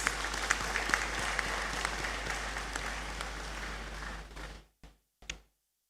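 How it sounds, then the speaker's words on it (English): A large audience claps at a University of Ghana congregation ceremony in the Great Hall, a dense sustained wash of applause that tapers off, ending with a few isolated claps before silence. "she deserves another big round of applause."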